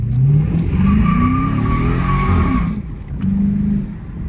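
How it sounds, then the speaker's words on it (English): Car brakes squeal in long, wavering high tones over the rumble of a moving second-generation Dodge Charger, fading briefly before squeaking again. "I hear my brakes. These are squeaking."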